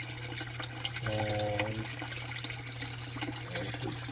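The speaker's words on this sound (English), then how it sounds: "here you'll see that it started to drain" Water drains through the bell siphon of a basement aquaponics setup, making a steady close rush and gurgle, with a brief rising tonal burble partway through and no talk over it.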